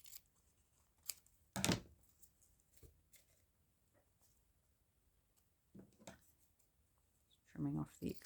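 Scissors trim excess paper from a page pocket in a quiet room: one sharp snipping burst, then a few faint clicks and rustles, and a brief low scrape near the end.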